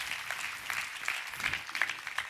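An audience at an outdoor word-and-music festival applauds the sound engineer, a short patter of many hands clapping at moderate volume, fairly distant and steady.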